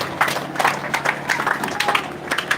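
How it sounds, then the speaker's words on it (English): Sparse, moderate applause from an audience at a community gathering for the High Chief, a scattered patter of individual claps rather than a full roar, fairly close. "A round of applause to the High Chief."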